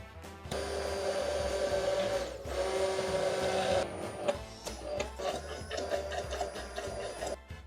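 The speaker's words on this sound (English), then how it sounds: "As soon as you put the salt, make sure you start blending because the egg can get cured." A blender whirs through egg, salt and oil for homemade mayonnaise, running in a long steady burst, pausing briefly, then continuing in shorter, uneven pulses at moderate loudness.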